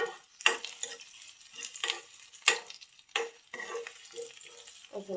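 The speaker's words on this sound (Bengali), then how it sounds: "পেঁয়াজগুলো সুন্দর করে বেজে নিতে হবে।" Onions fry in a pan for egg bhuna, with quiet sizzling and repeated scraping stirs in uneven bursts, close up and fairly soft, no voices.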